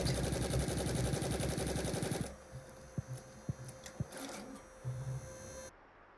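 An embroidery machine stitches a design onto purple vestments with a loud rapid needle chatter that stops partway, followed by quieter clicks, thumps and a faint hum.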